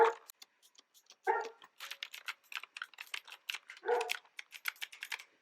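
Rapid, uneven clicking of keyboard keys, close and crisp, with a few louder thumps scattered through the taps.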